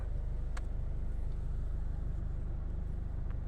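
A large vehicle rolls onto a ferry at the seaside: a low, steady engine rumble with a rhythmic throb, moderately close and unbroken, with a couple of faint clanks on top.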